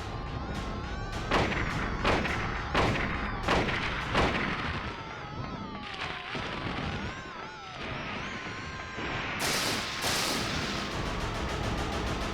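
Rifle shots in the Silent Hill video game, a run of sharp, loud reports fired in quick succession with short gaps, then a pause and a final burst of noisy impacts.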